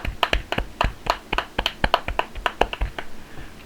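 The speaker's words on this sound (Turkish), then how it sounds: "Herkes alkışlasın" A single person claps by hand close to the microphone, a quiet run of sharp, fairly quick claps with slightly uneven spacing.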